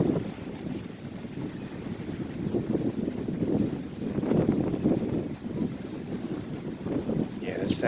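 Strong wind gusts across Long Beach beach, blowing sand along the shore, a steady close rumbling roar that swells and eases in waves over the whole stretch.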